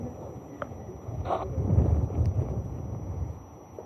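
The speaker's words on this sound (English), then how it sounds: "I'll try and shield the microphone a little bit from the noise of the wind" Strong outdoor wind buffeting a microphone while walking in a park near a gallery in Scotland, a continuous low rumble that swells and fades over a few seconds, with no talking.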